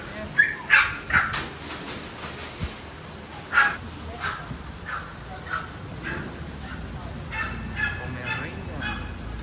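A small dog, a Pomeranian at a busy pet market, barks in a quick cluster of sharp yaps, then gives scattered further barks amid crowd noise and other animal calls.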